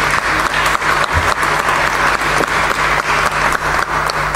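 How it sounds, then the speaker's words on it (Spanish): Loud, dense applause from an audience at a communal cueca folk dance event, continuous clapping with a few sharper hand claps standing out and a steady low hum underneath. "Fuerte el aplauso para ellos."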